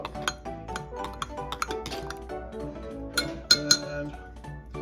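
A clean spoon stirs yeast in a bowl, making quick, irregular clinks and taps against the sides, close up with no talking.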